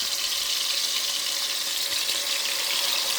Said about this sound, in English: you're not going to overcrowd the pot because you're frying it so that you get flavor